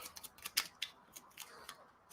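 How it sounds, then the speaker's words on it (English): A deck of small trainer cards is shuffled by hand, giving quick, crisp riffling snaps and flicks in uneven bursts, close and fairly quiet, with no talking. "So they're all just little cards, and we'll shuffle them up."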